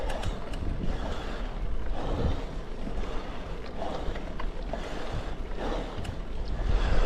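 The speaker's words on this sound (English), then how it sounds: "That wind must be turning southeast because it's a cross head on here." Strong wind buffets a hiker on a steep hillside above Littondale in the Yorkshire Dales, a constant close roar and rumble with gusty swells throughout and no talking.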